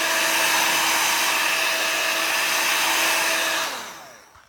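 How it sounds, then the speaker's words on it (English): A loud, steady blowing whir from an embossing heat tool drying ink on a card runs close for several seconds, then cuts off and winds down. "That's just the old Marvy heat tool from back in the day."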